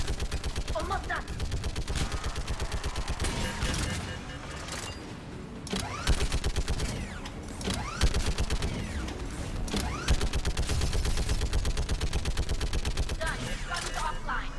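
Machine guns fire in Mass Effect 3 Legendary Edition, with rapid sustained bursts of automatic gunfire rattling in dense rhythmic streams, broken by short pauses and sharper impacts, steady and loud across the whole stretch.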